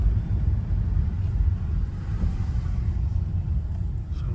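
A 2006 BMW 325i engine idles steadily, a low, continuous rumble heard up close that holds an even level throughout with no voices over it.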